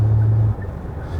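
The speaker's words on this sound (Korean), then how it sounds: "이 엔진 부밍음이 뒤쪽에서 더 많이 들리나?" The engine of a SsangYong Rexton Sports Khan pickup booms in the cabin while driving, a low, steady drone over road rumble that fades a little partway through, with no voices.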